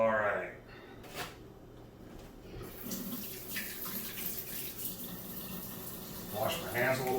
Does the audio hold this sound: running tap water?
yes